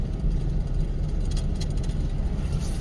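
A car engine hums steadily during a driving lesson, a low continuous drone heard from inside the cabin with slight surges as the learner presses the accelerator, and no one speaking.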